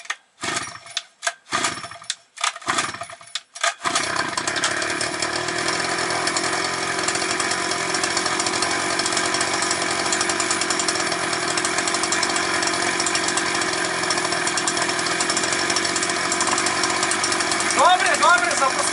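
Chinese petrol brush cutter under repair for starting then stalling, several short sputtering pull-start attempts before the engine catches and runs loud and steady at close range, with a voice briefly heard.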